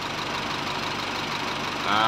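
An Isuzu 4HL1 diesel engine in a mini dump truck idles with a steady low rumble and faint knocking, close by, rising slightly at the end.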